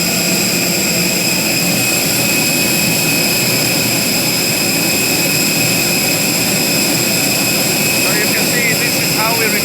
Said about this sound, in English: This is indeed the loudest part of the aircraft.